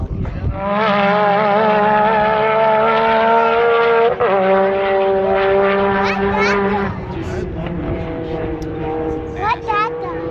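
Yamaha YXZ side-by-side engine climbing a sand dune hill at St. Anthony Dunes, revving loud and close with the pitch dropping sharply at each upshift through the gears, a sustained buzzing roar throughout.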